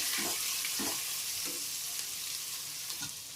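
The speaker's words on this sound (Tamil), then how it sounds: "பச்சை மிளகா அதையும் நல்லா வதக்கிட்டு" Green chillies sautéing in a pan for a vegetable biryani: a dense, steady hiss of frying oil, close and even, with a few soft stirring strokes and no talking.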